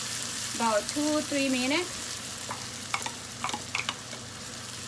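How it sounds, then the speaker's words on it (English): Chili and red onion sautéing in a pan for Lao khao poon soup, a constant sizzle with a few clinks of stirring, while a voice speaks briefly over it. "I'm gonna saute this one about"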